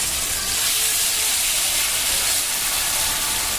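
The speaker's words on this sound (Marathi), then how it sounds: "घी मध्ये फ्राय केला जातोय चिकनला" Chicken frying in homemade ghee for biryani gives a steady, dense hiss and sizzle, loud and close, holding evenly throughout with no pauses or voices.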